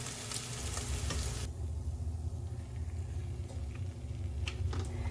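Salmon cakes frying in a pan give a steady, close sizzle with a low rumble beneath it, loud at first and then softer after the heat is turned down.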